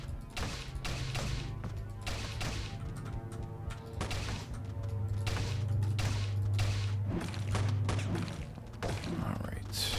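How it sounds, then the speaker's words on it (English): Repeated gunshots and thudding impacts in the roguelike survival horror game Teleglitch, an irregular run of sharp hits over a low droning background, with someone talking over parts of it. "I don't like that he is shooting me"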